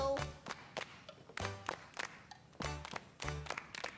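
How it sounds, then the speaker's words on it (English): Hands clap along to a steady rhythm, with crisp claps in short repeated groups and a few softer taps between them, fairly close and alone. "Now it's going to be your turn to try the clapping part."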